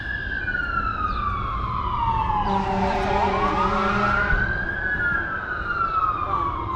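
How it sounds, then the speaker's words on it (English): Distant fire truck sirens wail across the neighborhood, several overlapping tones sweeping up and down steadily over a low outdoor rumble, with no talking. "You hear lots of fire trucks."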